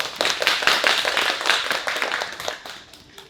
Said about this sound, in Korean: 여러분 박수로 청해서 강연 듣도록 하겠습니다